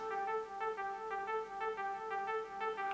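A repeating synth pluck pattern with a bouncing triplet rhythm, bright harmonic tones pulsing evenly at moderate volume, no voices.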